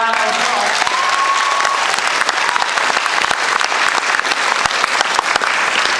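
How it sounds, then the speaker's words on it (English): Sustained applause from a large audience at a 2008 commencement ceremony, dense steady clapping filling the hall at full volume with no break. "Let's give them both a round of applause."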